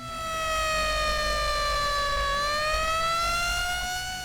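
A custom car's siren wails loudly in a long, smooth tone that dips and rises again, sustained without pause and close by.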